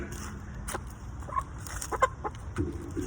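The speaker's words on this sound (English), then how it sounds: "Bella's clucking so low like Barry" A black Silkie chicken clucks low, with soft, irregular clucks over a muffled background.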